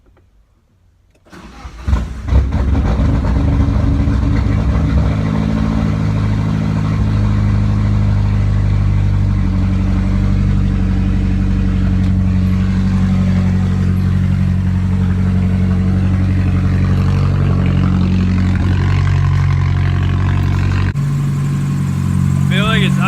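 A car engine with its blow-off valve removed cranks and catches after a moment of quiet, then settles into a steady, loud, slightly high idle that runs on for the rest of the clip.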